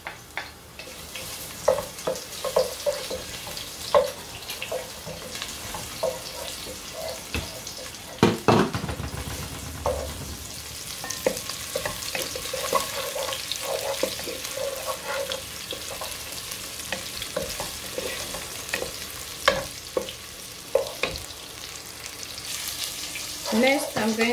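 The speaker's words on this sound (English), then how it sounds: "I'll be adding the onion now and I'm going to fry for 3 minutes" Onion fries in hot oil for gizdodo with a steady close sizzle, broken by occasional stirring clicks and scrapes and a louder splash of sizzle partway through.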